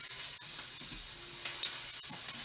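Steady, crackling sizzle of flour-coated chicken frying skin side down in hot oil, close and continuous with occasional pops and spatters.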